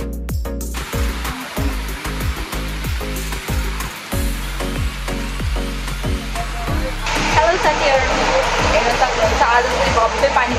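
Steady rain pours down in a broad, hissing wash with a dense patter, which grows brighter and louder over the last few seconds.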